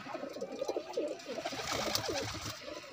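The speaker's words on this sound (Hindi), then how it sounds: "ये प्रवासी कबूतर है सुरखा।" Several pigeons cooing close by in soft, throaty, repeated calls that overlap, over faint background noise.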